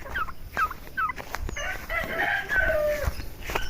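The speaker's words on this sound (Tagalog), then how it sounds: "yung ating mga alaga mga manok" Chickens cluck and call over one another in a busy, continuous flurry of squawks and short cries, with no one talking.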